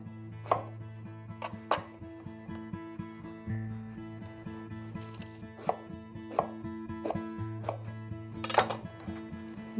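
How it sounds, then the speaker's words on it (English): A knife chops eggplant into strips and then chunks on a cutting board, with sharp, close, irregular knocks against a low steady background hum. "I'm going to cut into strips, like that, and then chunks."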